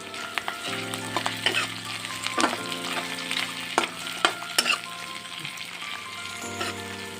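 Ginger and garlic paste fries with onion, bay leaves and whole spices in a pan for Punjabi chicken masala, a continuous near sizzle broken by repeated sharp stirring scrapes and clinks, no voices.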